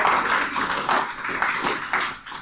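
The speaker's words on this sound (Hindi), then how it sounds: "तालियां हो जाए एक बार" A classroom group claps together in a short burst of brisk, uneven applause, moderately loud and close, lasting a couple of seconds without talk over it.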